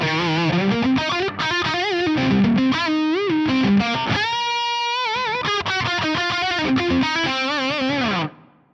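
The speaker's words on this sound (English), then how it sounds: "This is now with the input drive cranked." An electric guitar lead played through an amp with the input drive cranked, giving a saturated, sustained distorted tone with bending held notes and fast phrases, loud and continuous for about eight seconds with no talking.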